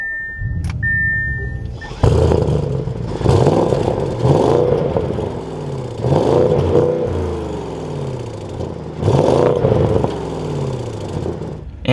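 A 2024 Audi S8 engine cranks and fires at about two seconds, then settles into a loud, close idle with several throttle blips that swell and fade in repeated surges.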